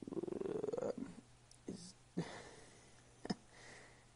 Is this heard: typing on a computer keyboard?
no